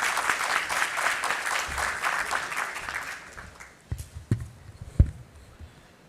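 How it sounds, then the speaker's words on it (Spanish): Audience applause at an inauguration ceremony for a construction expo: a room of clapping hands, steady for a few seconds and then thinning to a few scattered claps before fading out. "Recibamos con un fuerte aplauso a nuestro alcalde de Surco"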